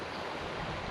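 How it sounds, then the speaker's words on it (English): Water flows steadily through a canal inlet from the higher section to the lower one, a dense, continuous rushing wash held close and loud for the whole moment, with no voices. "so we've got a bit of moving water"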